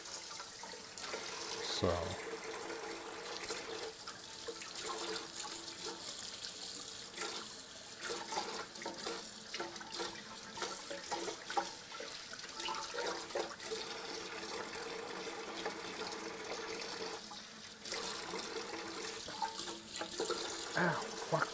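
Kitchen tap running while a pan and cutting board are washed in the sink, a steady faint water hiss with clatters and splashes over about twenty seconds, a voice speaking briefly.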